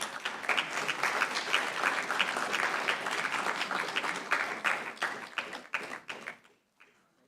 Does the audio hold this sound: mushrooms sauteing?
no